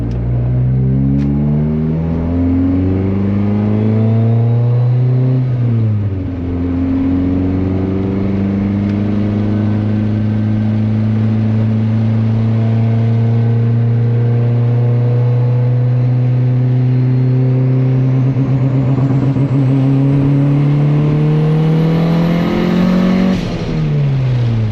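A tuned car with rolling antilag and richer fuel mapping is held at high revs for over twenty seconds. It drones loudly, the pitch shifts upward around five seconds in, and the engine drops at the end with crackling bursts.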